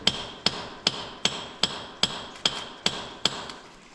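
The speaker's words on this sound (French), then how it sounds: "J'adore prendre les marteaux qui tapent." A hammer strikes rock while digging underground, with nine sharp, evenly spaced blows about every 0.4 seconds, each ringing briefly in the enclosed space; no talk is heard.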